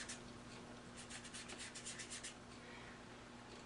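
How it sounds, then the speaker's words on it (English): A round paintbrush dry-brushes paint across paper, making a soft, close scratchy rubbing in quick back-and-forth strokes for a few seconds before it trails off. "lay the brush down and just do a little dry rub to gently pull that color across into the darker value"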